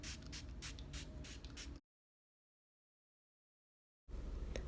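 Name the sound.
spraying makeup setting spray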